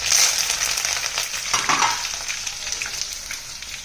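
Mustard seeds, cumin, garlic and curry leaves sizzle and crackle in hot oil for a tempering, a loud close hiss that starts strong and eases slightly, with a burst of spattering in the middle and no voices.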